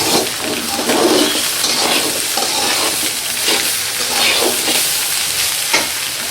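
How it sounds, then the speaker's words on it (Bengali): Spring onions and rice being stirred in a hot pan while frying vegetable fried rice, giving a steady sizzle with repeated scraping strokes of the spatula throughout. "পেঁয়াজ পাতা একটু নাড়াচাড়া করবেন"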